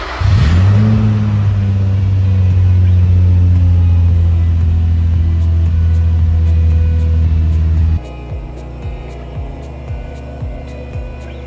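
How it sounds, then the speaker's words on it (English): An Infiniti G35 engine starts with a sharp flare and settles into a loud, steady idle up close as the car is driven toward a hoist. It cuts off abruptly, leaving a quiet shop with a few faint clicks and no talking. "We'll move the car back here, get it up on the hoist"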